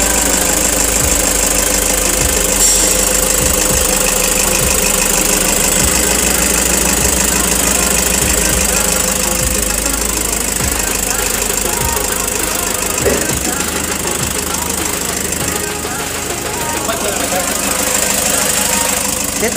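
Diesel engine running after a valve cover gasket replacement, a loud, steady knocking idle with rapid rhythmic clatter close to the microphone for the whole stretch, voices faintly talking in the background.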